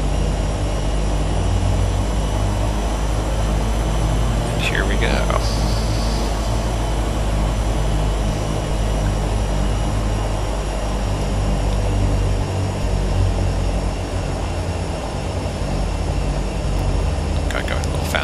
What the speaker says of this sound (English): I'm just going to taxi with engine power.